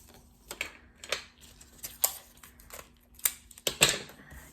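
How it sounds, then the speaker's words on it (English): Sticky tape being pulled and pressed onto the end of a plastic straw while assembling an art mobile, heard as a string of short, crisp tearing and crackling bursts up close, with no talking. "I'm just going to put some tape on the end, and I'm going to put it right there."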